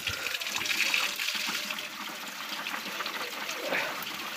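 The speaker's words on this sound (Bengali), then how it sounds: "তো এখনও জল কিছুটা বেরোচ্ছে" Water trickling and running steadily out of a home iron-removal filter tank packed with stone and sand, a continuous close splashing flow at moderate level with no talk over it.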